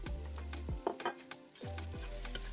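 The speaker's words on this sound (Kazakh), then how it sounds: "Әр затымызды салған сайын 1-2 минуттан қуырамыз." Onion, carrot and potato fry in oil with a steady close sizzle, while a utensil stirs them and scrapes the pan at intervals.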